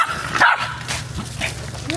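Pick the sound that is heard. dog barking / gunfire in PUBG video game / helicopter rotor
dog barking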